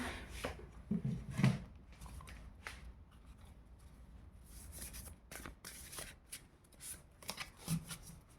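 Playing cards being handled and shuffled close by, with soft riffling and sliding bursts, brief flicks and taps recurring across the stretch, fairly quiet overall.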